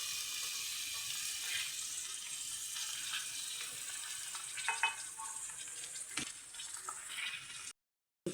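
Cluster beans tossed into a hot pan of frying onions give a steady, close sizzle that runs almost unbroken, with a few sharper crackles near the end before a brief gap.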